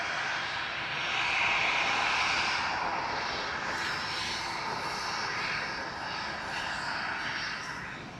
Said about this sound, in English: Flight 2091 G-UZLM A320-200 for easyJet.